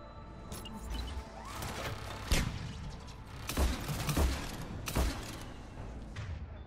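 A turret firing in Mass Effect 3, several spaced thumping shots and booms at moderate distance over a low rumbling background, with no talking.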